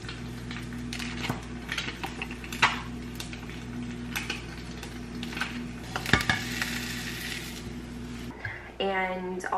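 Butter melting and sizzling in a pan with eggs, a steady soft frying hiss under a spoken voice, with a few clinks of utensils against the pan and a brief rising beep near the end.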